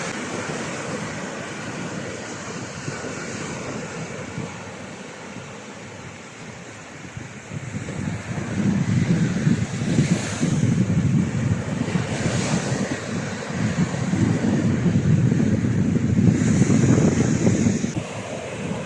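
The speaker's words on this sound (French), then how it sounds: "Si je vous laisse des bruits de vagues, est-ce que ça vous apaise?" Ocean waves on a beach in Vendée, a steady roaring surf that swells louder midway as breakers roll in, mixed with gusty wind buffeting the microphone, with no voices.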